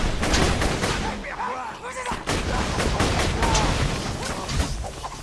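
Rapid gunfire in Borderlands 2, with repeated loud shots and blasts from an electric weapon in dense, overlapping bursts, while someone comments over the action.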